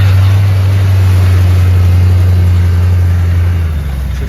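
A noisy rebuilt power steering pump runs on a pickup truck, giving a loud, steady low engine drone with a constant hum and a faint high whine, close up and unbroken, with no talking.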